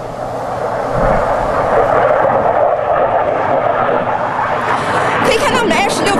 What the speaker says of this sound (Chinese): 可以看到我们的 F-16V 呢在空中啊不断的旋转了